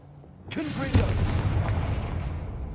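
Confringo explosive spell cast in the Hogwarts Legacy video game, a sudden loud blast that erupts then rumbles and crackles on for a couple of seconds, close and full.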